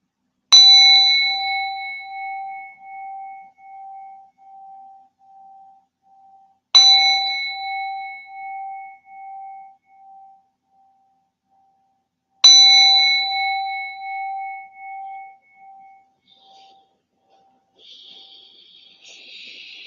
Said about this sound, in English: So I will ring the gong 3 times, then you can come out of the meditation.